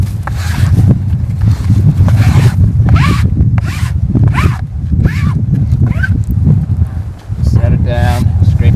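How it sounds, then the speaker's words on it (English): Glopped snow being scraped hard off ski touring skins: loud, close, repeated rasping strokes in a steady back-and-forth rhythm, with wind noise and rustling throughout. "Down, scrape it nice and hard."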